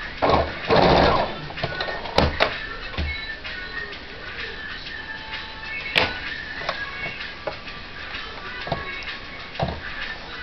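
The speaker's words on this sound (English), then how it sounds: "I'm going to sew to right there, back stitch" A sewing machine runs in short, uneven bursts while back-stitching fabric for a bow. Its quick stitching whirs come close up and are separated by brief pauses, with a few sharp clicks.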